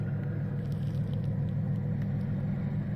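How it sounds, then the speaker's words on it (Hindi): A car's low engine rumble holds steady and close, with a continuous road drone and a faint crackle of tires, and nothing else stands out. "सुन भाई वो देखो गाड़ी आ रही है"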